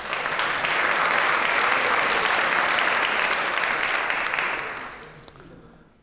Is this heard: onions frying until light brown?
no